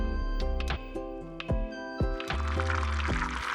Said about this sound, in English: Add 3 ladles of water to a pan and bring it to a light simmer.